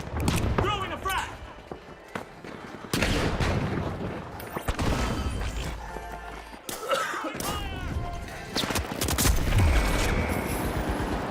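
Busy firefight from The Finals video game: a frag grenade goes off amid bursts of gunfire, sharp booms and a clatter of in-game effects, loud and dense throughout with a few brief lulls.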